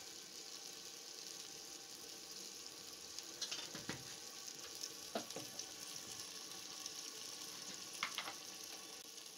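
Red chili powder, dried red chilies and ginger paste fry together as masala in a pan for Nawabi baingan, giving a soft, steady sizzle with a few faint scraping stirs and no voices.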